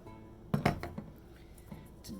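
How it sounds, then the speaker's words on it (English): A small spatula stirs thick soap batter in a large container, giving a few clinking, scraping knocks against the vessel, the strongest cluster early and softer taps later, close and fairly quiet with no talking. "me stirring the big one with the little spatula"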